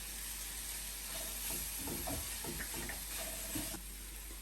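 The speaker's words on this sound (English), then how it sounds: "Then add the ginger garlic paste and fry it for a couple of, maybe a minute or two." Onions with ginger garlic paste fry in a pan for street-style pav bhaji, a steady close sizzle and hiss with scattered stirring clicks and scrapes, no voices.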